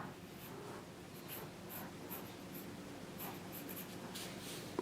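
Pencil sketching on paper during an art lesson, faint continuous scratchy strokes with light repeated taps, quiet and close with no talking.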